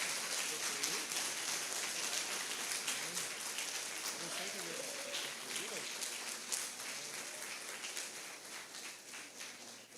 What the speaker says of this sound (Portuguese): Aplaudamos ao Senhor